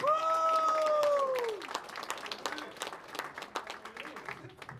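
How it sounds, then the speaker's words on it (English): A comedy club audience in Rochester applauds the host of a stand-up show, with a bright whistle-like tone fading early, then a steady patter of clapping and some crowd noise under light talk. "how about a nice round of applause for your host?"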